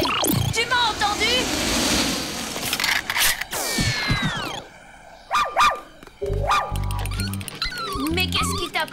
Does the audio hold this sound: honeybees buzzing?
no